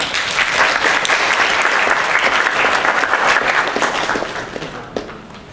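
An audience at a Thai information session for the S-Booster 2019 programme applauds a guest being introduced, steady dense clapping that holds for several seconds and then thins out near the end, with no talk over it.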